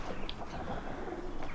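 Pigeons in a hand-built loft aviary give soft, low coos at a distance, a quiet murmur of calls with no talk.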